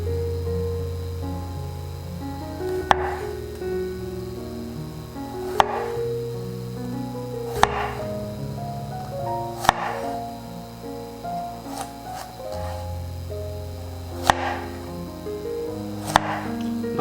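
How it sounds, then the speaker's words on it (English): A knife slices pork belly on a cutting board at a 45-degree angle into thick bacon-like pieces, giving seven or eight sharp, separate chops spaced a couple of seconds apart over steady background music. "and now we are cutting into slices"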